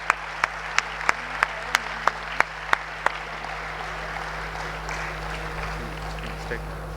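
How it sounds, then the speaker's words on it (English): Audience in a grand hall applauding conference delegates; a string of sharp, evenly spaced claps up close gives way to softer, diffuse clapping from the crowd. "Please give them a round of applause, ladies and gentlemen."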